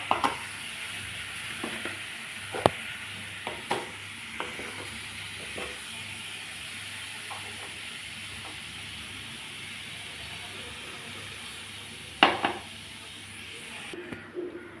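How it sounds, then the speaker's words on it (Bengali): Jaggery simmering in water in a pot for jujube (boroi) pickle, a steady soft sizzle and hiss with occasional sharp clicks and stirring knocks, faint and close. "এখন আমার গুড়টা জাল হচ্ছে"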